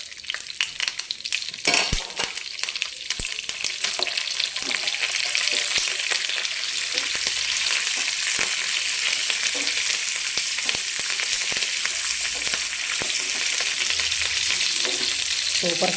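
Green chilies and curry leaves fry for a tamarind, coconut, sesame and peanut chutney, giving a loud, continuous close-up sizzle broken by sharp spatula scrapes and taps against the pan.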